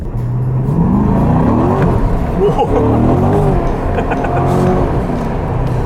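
Chevrolet Corvette C8 engine revs loudly and continuously while driving on the road, with rising and falling engine tones sustained throughout and a voice briefly talking over it.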